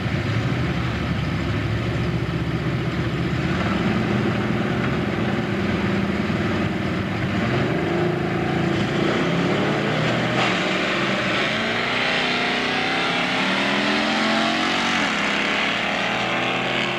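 Drag race between a little yellow Camaro and a 1967 Ford pickup, with loud engines roaring throughout and rising in pitch as the cars accelerate down the strip.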